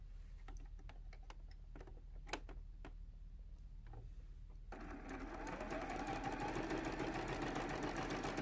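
A sewing machine stitching quilt sashing with a quarter-inch seam runs steadily, quiet and close at first with light ticking, then louder and faster from the midpoint onward.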